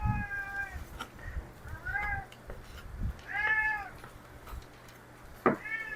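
An unhappy indoor cat meows repeatedly, four drawn-out cries with a final short one, fairly close and loud over a quiet room.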